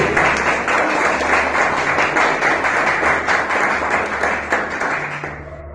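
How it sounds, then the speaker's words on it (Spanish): A church congregation at a Spanish-language worship service bursts into loud, sustained applause, a thick wash of many hands clapping with a low hum beneath, fading slightly near the end. "Denle un aplauso al Señor, déselo fuerte."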